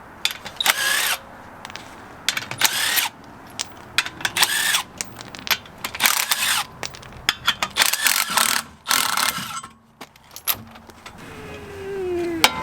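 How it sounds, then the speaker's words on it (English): Rapid ratchet clicking in repeated bursts while a 24 mm axle nut is broken loose on an MK5 VW GTI during a CV axle replacement, close and loud with brief pauses between pulls. "gotta break that axle nut loose, get that out of the way"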